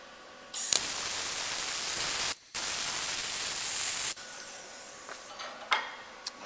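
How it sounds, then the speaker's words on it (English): A harsh, steady electric crackle and hiss of welding a plug weld on a DIY Cummins diesel motor mount runs in two long bursts with a brief break, then drops to quieter fizzing and clicks. "so that is the plug weld welded out on the back side"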